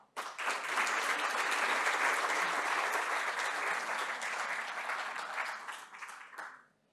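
A seated audience at a Chilean infrastructure panel discussion bursts into steady, full applause that holds for several seconds before tapering off and ending, with no talk over it.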